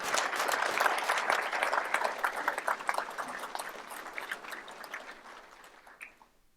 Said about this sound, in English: if we just give a round of applause for all of you